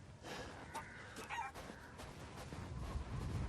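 A chicken clucking in the video game Resident Evil Village, several close, faint clucks over a low background hum.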